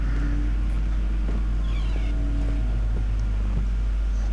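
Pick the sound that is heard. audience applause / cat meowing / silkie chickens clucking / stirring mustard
cat meowing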